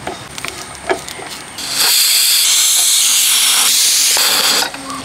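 A pressure cooker holding Kerala-style chickpea curry lets off steam in a loud, close hiss that starts abruptly, holds steady for nearly three seconds and then cuts off, after some quieter clatter.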